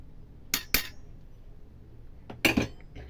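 Turmeric being mixed into a tooth-cleaning paste of lemon, salt and baking soda, a few sharp clinks of a spoon against a small dish in two brief bursts, close and otherwise quiet.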